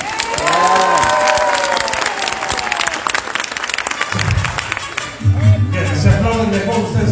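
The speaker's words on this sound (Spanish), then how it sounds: "sin antes dedicarles un aplauso para ustedes" Crowd at an awards event applauds and cheers for a singer between songs, loud dense clapping with shouts and whoops, then music and voices come in near the end.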